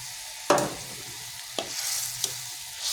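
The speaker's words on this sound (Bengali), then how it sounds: "এখন আমি সেই আগে থেকে সেদ্ধ করা আলুগুলো দিয়ে দেব" Boiled potatoes being stirred into a thick frying curry, with a few distinct spoon-and-pan scrapes over a quiet background sizzle, close up, no voices.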